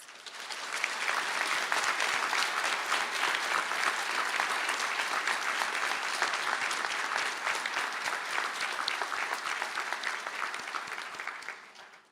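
A large audience at a university conferring ceremony in Galway gives graduates in public health nutrition a sustained round of applause, dense and steady for about eleven seconds before tapering off.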